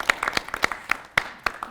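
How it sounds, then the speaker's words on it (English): Sparse, scattered handclaps from a small audience, a few separate claps popping out at irregular intervals over a couple of seconds. "Can we give it maybe a round of applause?"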